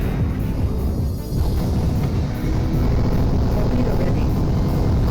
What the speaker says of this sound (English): Just is that a bomber? Yes, that is a bomber.